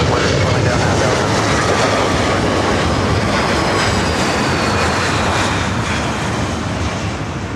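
Loud, steady broadband roar of a jet airplane at Los Angeles LAX airport, a close, sustained rumble and whoosh filling the whole clip with a faint high whine on top.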